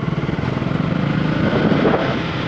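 KTM Duke 250 motorcycle engine running steadily while riding, a loud continuous drone with a pulsing rhythm that builds slightly in intensity, heard up close with no talking.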